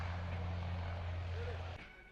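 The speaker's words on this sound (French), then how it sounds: "L'avion peut à présent mettre le cap sur le ciel de la zone de saut du camp Wezin Koulibaly." Military propeller aircraft carrying paratroopers toward a drop zone, its engine drone a steady low hum that drops off abruptly near the end, with someone talking over it.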